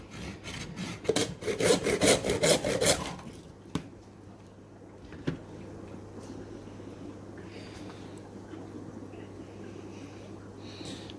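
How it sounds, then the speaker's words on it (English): A hand saw cutting a coconut in half for a DIY fish cave, with rapid rasping back-and-forth strokes for about three seconds, then a low steady hum and a couple of faint knocks. "take your saw and cut the coconuts in half"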